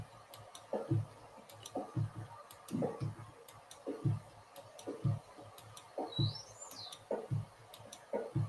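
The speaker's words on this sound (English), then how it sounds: "The beautiful song of the dolphins. It sounds like balloons being rubbed together." Dolphins in the video game Minecraft make quiet, rhythmic clicking and chirping pulses with one brief rising whistle, all fairly faint against soft ambient noise.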